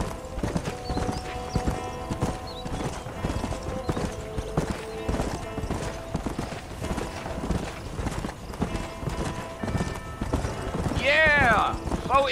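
Horse hooves clip-clop steadily and close while riding in the Red Dead Redemption video game, with a neigh near the end and a voice speaking over the hoofbeats.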